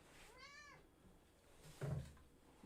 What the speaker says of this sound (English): Kitty want attention.